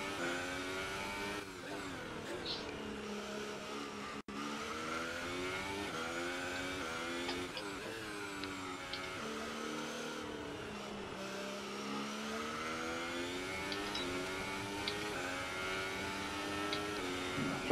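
An F1 race car engine in the F1 2018 video game, testing 2019 aero regulations, screams at high revs through repeated gear shifts, pitch climbing and dropping in rising sweeps, loud and continuous with no talk.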